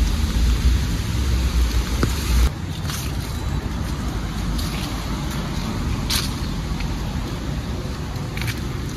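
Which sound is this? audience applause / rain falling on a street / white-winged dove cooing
rain falling on a street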